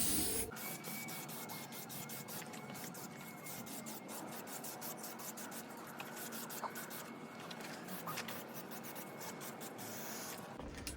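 A light top coat of paint is sprayed onto a small panel for Fiat Ducato marker lights, heard as a quiet, continuous hiss broken by quick, regular clicking bursts.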